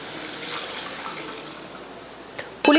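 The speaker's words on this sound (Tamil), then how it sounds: "இப்போ நம்ம புளியும் பருப்பையும் கரைச்சி வச்சுருந்தோம் இல்லையா அதையும் சேர்த்துடலாம்." Tamarind and lentil water pours and swishes steadily into a pot of paruppu kulambu, with a louder splash right at the end; no one speaks.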